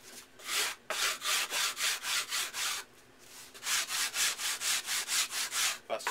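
Rhythmic rasping strokes of sanding on a wooden blade, steady back-and-forth passes close by, with a brief pause midway before the strokes resume.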